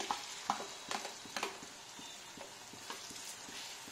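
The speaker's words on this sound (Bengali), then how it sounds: "এবার আমি এটার মধ্যে চিংড়ি মাছগুলো রেখেছিলাম, চিংড়ি মাছটা দিয়ে দেবো।" Shrimp sizzling in a hot pan for spicy chowmein, a constant close frying hiss broken by a series of soft scraping and stirring knocks.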